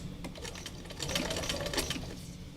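A sewing machine stitches a quilt in a steady, fast, continuous run of rapid needle clatter, close by and running alone without any talk.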